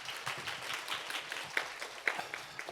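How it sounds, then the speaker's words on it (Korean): Seminar audience at an AI ethics forum applauds, a soft, fairly distant patter of many hands clapping steadily for a few seconds with no talk over it. "여러분 박수 부탁드리겠습니다."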